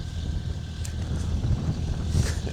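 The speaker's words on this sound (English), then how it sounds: "So wind's up again, which is a pain in the bum." Gusty wind buffets the microphone over an open canola field, a continuous low rumble with stronger swells, and no one speaking.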